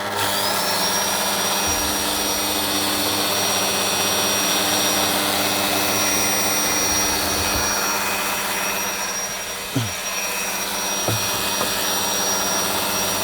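A Soviet-era Komunaras PS-2a drill stand drills into simple metal with a loud, steady whine and hum throughout, broken by a few brief knocks near the end.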